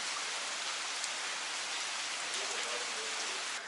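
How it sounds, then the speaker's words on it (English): Steady rain pours outside a visitor center at Sungei Buloh nature reserve in Singapore, a dense even hiss of drops on surfaces that stays constant throughout, with no talking. "It's raining outside"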